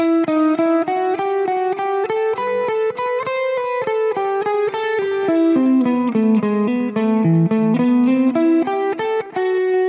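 An electric guitar with a slightly overdriven tone plays a continuous melodic lick over chord changes. Sustained notes step up and down in a flowing line, played alone with no talk.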